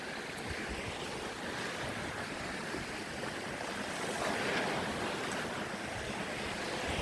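Ocean waves and surf at a shoreline under a low sun and clouds, a steady moderate wash of breaking water with faint wind and no voices.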